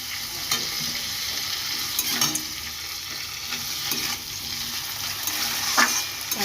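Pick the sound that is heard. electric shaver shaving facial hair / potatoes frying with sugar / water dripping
potatoes frying with sugar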